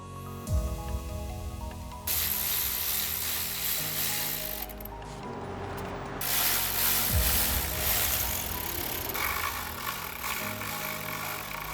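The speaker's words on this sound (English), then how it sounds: "Using a 10mm socket within an extension, remove the 4 bolts securing the OEM throttle body" A ratchet with a 10mm socket on an extension clicks while removing the bolts of an OEM throttle body. The mechanical clicking runs under steady background music throughout.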